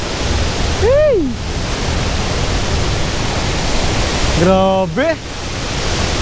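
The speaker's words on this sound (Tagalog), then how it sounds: "dito lang to sa Taytay Falls, located sa Mahayhay, Laguna" The Taytay Falls waterfall in Majayjay, Laguna makes a loud, constant rushing roar that fills the whole scene, with two short exclamations from a person heard over it.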